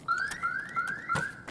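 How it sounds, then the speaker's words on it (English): The KIBA store alarm in Escape from Tarkov wails in repeating rising electronic sweeps, four or so in steady rhythm, loud and close, with faint thumps of game noise beneath and no talk. "you're going to hear the alarm because I haven't turned it off yet"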